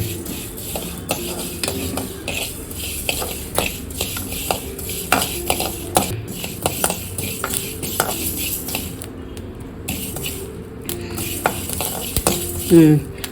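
Whole spices being dry-roasted in a pan on low heat for tamarind rice, with a steady scrape and clink of a spoon stirring against the metal and a faint sizzle, close and continuous, without speech.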